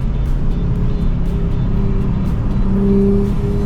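A Nissan 350z accelerates hard on a freeway, its engine note rising and holding strong under a steady rush of road and wind noise, loud and close from inside the car.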